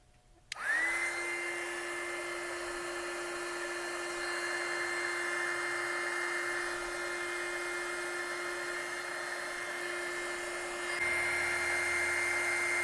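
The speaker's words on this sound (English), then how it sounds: "And then I'm going to use my heat gun here." Heat gun switching on and running steadily while shrinking solderless connectors for a gate opener wiring job, a loud continuous whine and airy blow held for over ten seconds.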